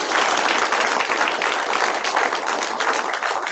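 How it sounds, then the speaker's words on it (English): An audience at a research presentation on sugar and yeast insecticide adjuvants gives a speaker a round of applause, a steady, fairly close patter of many hands clapping with no talk. "How about a nice round of applause for Greg"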